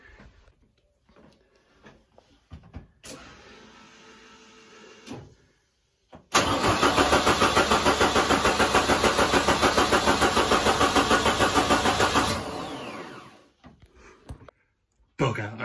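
A 1958 Ford Prefect 100e with a turbocharged Pinto engine cranks for its first start: a loud, steady churning whir lasting about six seconds, preceded by scattered clicks and quiet shuffling, then dropping back to near silence.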